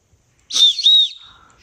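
A toy whistle car is blown in one loud, shrill burst of about half a second, a brief dip, then a second sustained blast before it trails off into quiet.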